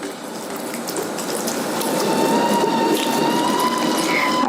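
Water heating in a kettle in a home kitchen, a steady rushing hiss that swells louder, with a thin whistling tone emerging partway through; no one speaks.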